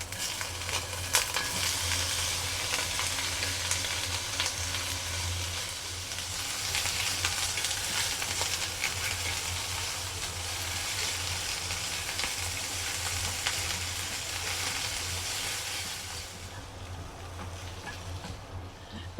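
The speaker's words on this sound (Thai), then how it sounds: "กระทะเดิมนะคะทำไส้กรอกผัดซอส" Steady sizzling of sausages stir-frying in a hot pan, a constant crackle that runs nearly the whole time before easing off at the end.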